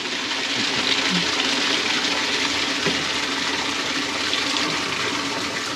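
At a ranch, a pump pushes river water into a barrel, making a constant, moderately loud watery hiss and splash with no talking.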